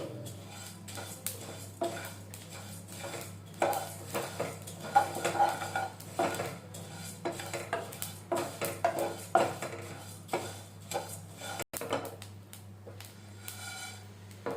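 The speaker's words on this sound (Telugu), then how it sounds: "కలర్ వచ్చే వరకు వేయించుకోవాలి." Chicken avakaya spices frying in a pan and stirred with a metal spoon, with quiet, irregular scraping and clinking strokes against the pan and no voices.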